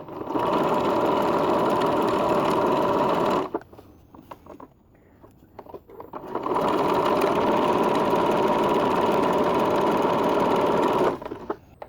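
A sewing machine stitches two pieces of fabric with a flange along the edge: a fast, steady motor whir runs for several seconds, pauses briefly with quiet handling, then resumes for a second long run.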